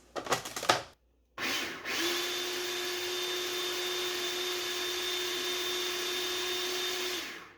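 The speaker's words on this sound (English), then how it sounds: "I'm gonna blend that up" Blender whirring through keto, nut-free pumpkin cheesecake batter with vanilla, a steady high motor drone after a brief clatter and pause, close and continuous to the end.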